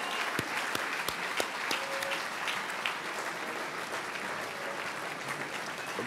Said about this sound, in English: How about one more round of applause for the Army Sports Hall of Fame class of